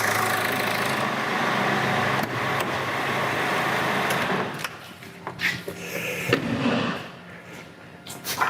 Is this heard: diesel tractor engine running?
yes